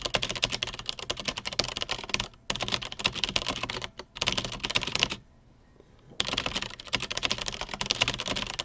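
Rapid, steady keyboard typing during a 1920 typing championship test, close and continuous in long bursts broken by short pauses and one longer silent gap.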